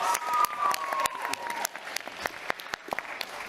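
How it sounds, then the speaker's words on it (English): A crowd at a boxing press conference claps in a steady round of applause, loud at first and thinning into scattered, sharper claps toward the end. "round of applause"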